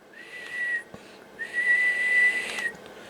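A half-broken whistle gives two shrill, breathy blasts, the second longer than the first, close by and alone.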